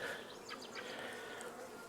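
Honeybees at an open hive during a beekeeping inspection on a farm, with only a few bees in the box, make a faint, steady buzzing drone throughout, with a few brief higher chirps over it.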